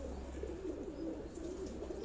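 Pigeons kept by a rooftop pigeon fancier in Rawat coo steadily and softly, a continuous low murmur of several birds close by with no talk over it.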